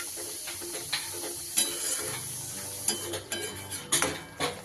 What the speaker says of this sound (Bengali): সেই কাজু বাটাটা দিয়ে দিলাম। সবকিছু একটু ভালোভাবে মিশিয়ে দেব।